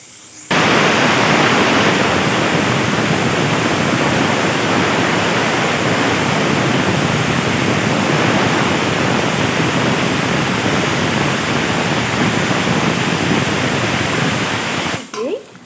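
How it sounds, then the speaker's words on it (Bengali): A pressure cooker of mutton curry vents steam in a home kitchen with one loud, steady hissing whistle that holds unbroken for about fifteen seconds and then cuts off. "মাটনেরও সিটি পড়তে শুরু করেছে"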